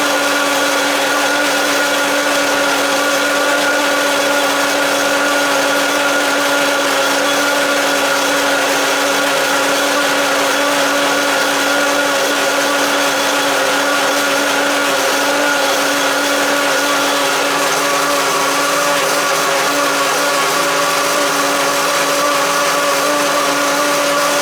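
A Vitamix V1200 blender runs continuously on high speed 10, churning frozen strawberries with a loud, steady motor whine and stable tonal hum that holds for the whole stretch, with no talking.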